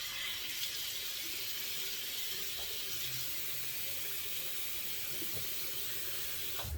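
Water runs steadily from a tap into a sink before a face shave, a constant close hiss and splash with no pauses, with no one talking over it.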